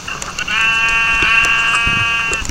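Inside a video game, a sheep lets out a single loud, drawn-out bleat lasting about two seconds, clear and close, with no voices over it.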